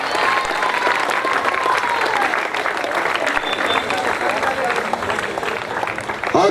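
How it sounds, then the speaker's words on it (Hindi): Loud, sustained applause fills the hall at a cricket club award ceremony, a thick wash of clapping with crowd murmur and some speech-like voices mixed in, swelling slightly at the end. "आयान, जोरदार तालियों के साथ"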